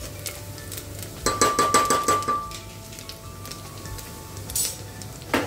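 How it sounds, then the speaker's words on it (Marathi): Mutton pieces drop into sautéed onions in a pan, a quick cluster of soft thuds and clinks followed by a low sizzle and a few later utensil knocks, close and without talking. "छानपैकी कांदा परतलेला आहे, त्यात टाकूया आपण मटण"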